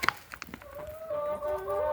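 Backyard hens cluck softly, a few sharp calls up front followed by a drawn-out, wavering murmur from the flock.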